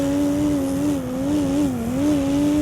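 A man's mouth imitation of a Toyota Supra MK4 with its 2JZ single-turbo engine: a steady, loud, buzzy engine drone held for under three seconds, wavering slightly in pitch like revs rising and falling.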